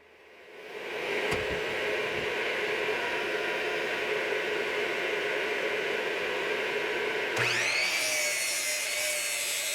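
A power saw cuts wooden uprights for a firewood rack, a steady loud buzzing rasp that runs nearly the whole time and shifts pitch near the end.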